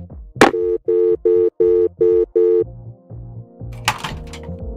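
Steady telephone dial tone from a video game, sounding as a series of about six even, loud beeps in a regular rhythm, then shifting into a lower, continuous electronic drone after a sharp click.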